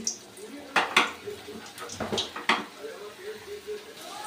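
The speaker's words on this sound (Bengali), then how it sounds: "এবার আমি আলুগুলো দিয়ে দিচ্ছি" Potatoes are tipped into a frying pan with whole cumin, giving a few sharp utensil clinks and scrapes over a faint sizzle, close and intermittent.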